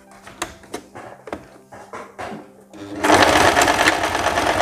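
A sewing machine stitches a straight seam to hold a fabric strip on a wrap blouse. Light handling clicks come first, then the motor runs loud, fast and continuous, close by.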